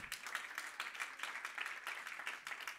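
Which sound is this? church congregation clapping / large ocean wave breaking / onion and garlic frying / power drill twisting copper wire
church congregation clapping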